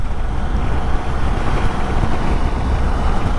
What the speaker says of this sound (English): I mean, it's quite windy today.